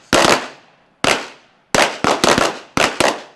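Six sharp rifle shots fired from the prone position on a range, loud and close, each cracking out alone with a short decaying tail, spaced irregularly and bunching closer together toward the end.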